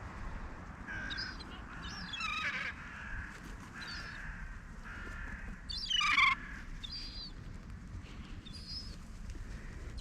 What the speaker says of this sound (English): Got a couple crows there and a mule gull eating the wet cat food.